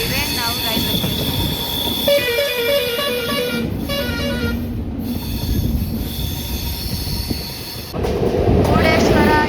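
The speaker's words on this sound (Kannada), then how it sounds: "ಮುರುಡೇಶ್ವರ ಎಕ್ಸ್ಪ್ರೆಸ್ ನೋಡಿ ಟ್ರೈನು." Murudeshwar Express rolls through a railway station beside a metro line and a highway, its wheels squealing with loud, sustained high-pitched shrieks over a heavy rumble, fading briefly before another strong burst of squeal.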